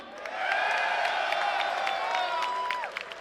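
A wrestling crowd in El Paso cheers and applauds, a sustained roar of voices and whoops with scattered claps, loud and continuous before fading near the end.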